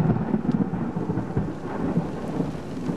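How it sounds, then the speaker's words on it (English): Deep rolling thunder rumbles steadily through a severe thunderstorm with hail, with rain hissing over a surface close by and no voices. "This lightning is striking everywhere,"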